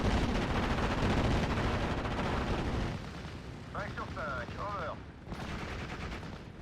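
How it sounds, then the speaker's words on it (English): Aircraft strafing run in the Steel Division: Normandy 44 wargame, a loud sustained roar of rapid gunfire and impacts that drops back after about three seconds, followed by a brief whistling tone and continued rumbling battle noise. "I'll come in and strafe this Fallschirmjäger as well"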